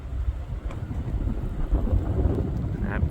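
Wind roars and buffets the microphone during a lake effect snowstorm, a steady close rumble with brief gusty bursts across the short stretch.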